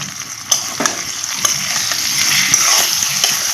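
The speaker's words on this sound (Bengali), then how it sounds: "এখন আর একটু নাড়াচাড়া করে নিব আমগুলো" Boiled green mangoes for chutney stirred in a hot pan, a soft sizzle with several distinct spatula scrapes and taps, close and clear with no talking.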